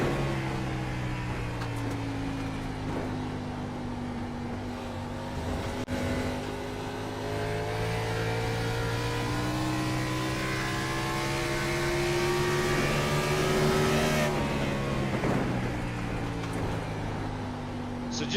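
A NASCAR race car engine screams at sustained high revs around the Milwaukee Mile, its pitch climbing steadily as it holds speed without downshifting, loud and continuous throughout.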